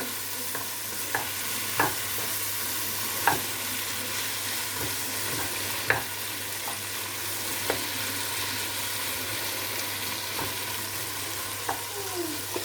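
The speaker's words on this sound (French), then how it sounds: "vous laissez chanter jusqu'à ce que les poivrons soient un peu mous" Peppers and other vegetables sizzle softly in a pan as the base of a chicken sauce, with a constant hiss and regular scrapes and taps from stirring.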